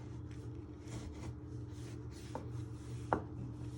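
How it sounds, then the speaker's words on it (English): A knife slices and chops ingredients on a cutting board while making chicken and chorizo ragu, giving soft, faint repeated cuts with a couple of sharper knocks near the end against a steady low hum. "and then you just chop them down the middle. So you just keep slicing them"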